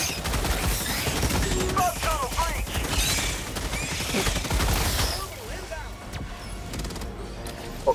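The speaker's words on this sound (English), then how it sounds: "Throwing grenade!" Dense Helldivers 2 battle sounds: continuous gunfire and a grenade blast. The firing runs for several seconds with voices talking over it. It eases near the end, then a sharp burst hits.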